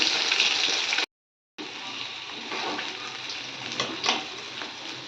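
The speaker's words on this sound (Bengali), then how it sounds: "আর এদিকে দেখেই পাচ্ছে আমার মাছগুলো ভাজা হচ্ছে" Fresh pond fish frying in a pan, a steady loud sizzle and crackle that cuts out briefly and then resumes with bubbling spatters.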